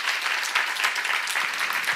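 A church congregation claps during a sermon, a brief, dense burst of steady applause filling the whole moment with no talk.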